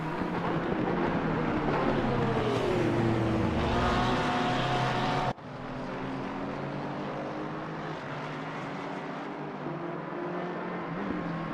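Race cars pass at speed in the Watkins Glen six-hour endurance race, with engines loud and close and a long droning roar that shifts in pitch. An abrupt change partway through leaves a steady engine roar for the rest.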